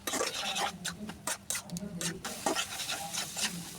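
Vegetables mixed with egg and salt are stirred in a pan for noodles, giving repeated close scraping and rubbing strokes in an uneven rhythm, with someone talking over them.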